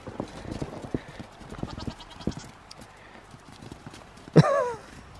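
Goats shuffle and stamp on a straw-covered barn floor during freezing rain, giving scattered hoof knocks, and then one goat lets out a loud bleat near the end.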